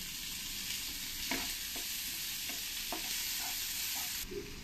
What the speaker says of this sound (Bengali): এবার এই কুচানো পেঁয়াজগুলো দিয়ে দেবো, দিয়ে ভালো করে আমি লাল লাল করে ভেজে নেব।